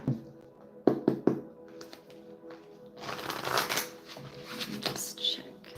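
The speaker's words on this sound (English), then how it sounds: "Let's do some health cards for you, Cindy." Tarot cards shuffled by hand during a live reading, giving a few sharp taps and knocks early, then a longer soft riffling flutter that runs steadily at close range with faint talk nearby.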